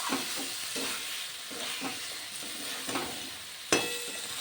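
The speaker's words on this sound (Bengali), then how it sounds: "মশলার সঙ্গে খুব ভালো করে কষিয়ে নেব" Cauliflower and potato curry masala with egg cooks in a pan, a soft continuous sizzle broken by repeated scraping stirs and one sharp clink of the spoon near the end.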